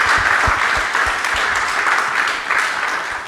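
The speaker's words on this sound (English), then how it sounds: "Can we give one more clap for everyone up here?" Audience applause for a panel at a design and community-building summit, a steady wash of many hands clapping close by throughout, with a few sharper claps standing out.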